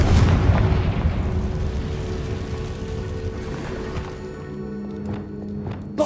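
A Confringo fire spell blast in Hogwarts Legacy on PS5, a loud booming rumble up front that slowly decays into a lower fading roar, with a few faint crackles near the end.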